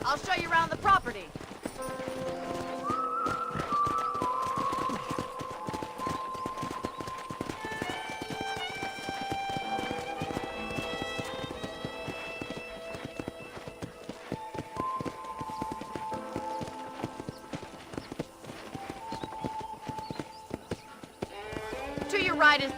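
Steady horse hoofbeats clip-clop along at a walking rhythm while someone talks over them, with light music in the background, in the video game Red Dead Redemption.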